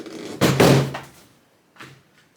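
Truck door thuds and rattles free from an old brick-nose Ford pickup, a loud close metallic clunk and scrape followed by a softer second knock about a second later.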